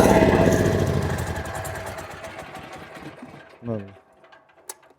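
A small engine started with a little throttle, turning over with a loud rapid chugging that fades over a few seconds, then a short cranking burst; a voice speaks briefly.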